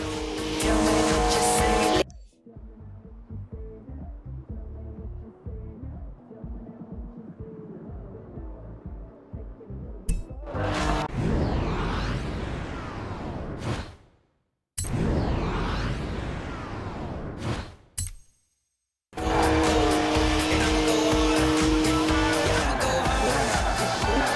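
BMW car drifting in Forza Horizon 4, rear-wheel drive, with loud engine revving and long tire squeals in bursts broken by brief silences, and a quieter stretch of game sound near the start.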